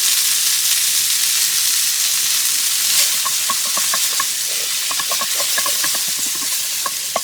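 Onions fry in a hot pan for smothered steak, a steady close sizzle and hiss with small popping crackles scattered through, no talk over it.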